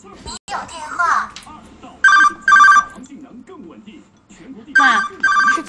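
A telephone rings in two short double bursts at a home during a family drama, loud and close, with spoken voices in between.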